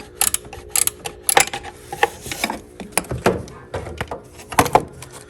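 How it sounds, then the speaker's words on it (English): A wrench works a pulley bolt below the power steering pump on a Jeep XJ 4.0, giving close, irregular metallic clicks, ratcheting and clunks in short bursts with brief pauses between. "You have to first loosen this pulley bolt right below the power steering pump."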